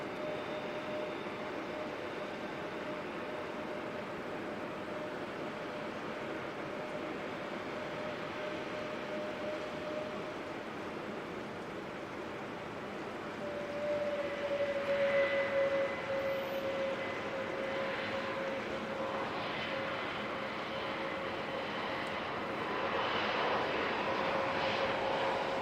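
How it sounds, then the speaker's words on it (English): Airliner NZ101 spools up and takes off at Auckland Airport in fog: a faint, distant engine hum rises into a louder, building roar, heard alone. "So we'll hear NZ101 spool up, and we'll hear it leave"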